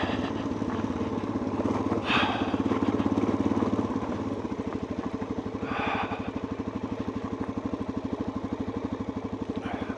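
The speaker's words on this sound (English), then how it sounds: "Let the clutch out, engine brake a little bit." Motorcycle engine braking on a hill descent: a steady, close, pulsing engine note holds at low revs with a rhythmic throb, swelling slightly midway before settling, with no talk.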